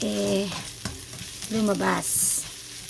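Garlic and ginger sauté in a hot pan, a soft sizzle and stirring heard beneath a person talking for most of the stretch.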